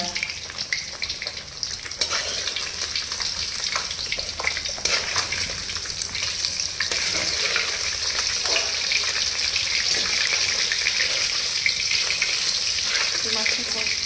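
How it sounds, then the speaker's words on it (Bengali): Fish pieces frying in hot oil for doi katla, a Bengali yogurt fish curry: steady close sizzling and crackling that runs throughout, with occasional stirring scrapes and no talking. "সব মাছগুলো ভেজে নিই পরপর, তারপর রান্নাটা বসাবো।"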